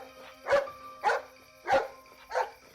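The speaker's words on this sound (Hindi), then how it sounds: "मगर कुत्ता और पास आकर भौंकने लगा था" A dog barks close by with four evenly spaced sharp barks about half a second apart, and each bark is separated by a brief quiet stretch.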